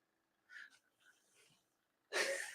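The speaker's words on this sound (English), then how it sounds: "my dog is laying down there just roaring, snoring." A dog lying down and snoring, a few soft, raspy wheezing breaths close by, followed by a louder, sharper snort.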